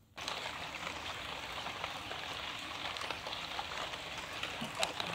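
Rain pours down outdoors in Sangatta, East Kalimantan, during a meal of grilled fish and rice, making a steady, even hiss that runs unbroken from start to finish at moderate level.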